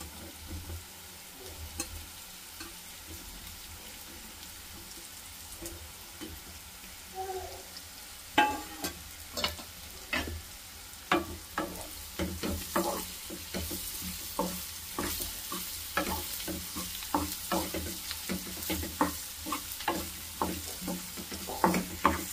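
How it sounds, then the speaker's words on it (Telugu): Boiled potatoes are stirred into a pan of frying onion and green chilli, giving a steady sizzle and repeated scraping, stirring strokes that grow busier and louder toward the end. "ఇప్పుడు మనం ఉడికించుకున్నటువంటి ఆలుని వేసేద్దాం"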